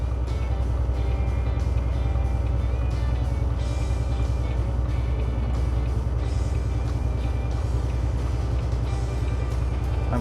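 A semi truck's diesel engine labors steadily uphill on a mountain grade in tenth gear, a constant loud drone with low rumble and faint rattles, unbroken and without talk.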